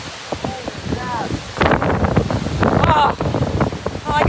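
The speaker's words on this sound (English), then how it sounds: "It's like so windy out here." Strong gusts from a squall line thunderstorm roar and buffet the microphone in rough, surging waves, with a person exclaiming over the wind noise.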